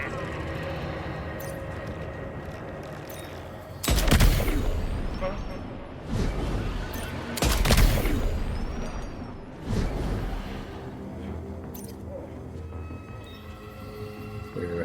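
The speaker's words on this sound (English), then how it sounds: "That sniper rifle doesn't appear to be equipped with a suppressor, meaning it will make considerable noise when fired." An unsuppressed sniper rifle fires in the video game Death Stranding 2, with a few loud booming shots standing out over a continuous rumbling game soundscape.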